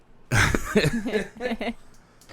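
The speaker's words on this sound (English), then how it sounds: "Start with a cough. That's perfect." A single loud, close cough bursts out, followed by a bit of throaty vocal noise and short voiced sounds.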